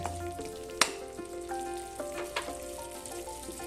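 Mustard and green chili paste frying in oil in a pan while being stirred, a soft sizzle with a few clinks and scrapes of the spatula, fairly quiet and close, with no voices.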